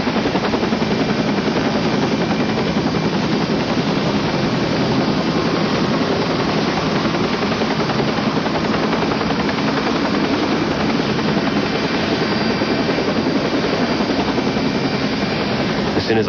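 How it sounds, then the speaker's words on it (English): A helicopter hovers near a cliff during a rescue, its rotor thumping in a fast, steady chop beneath a loud, constant engine roar that holds evenly throughout. "I saw the rotor of a helicopter going around right below me"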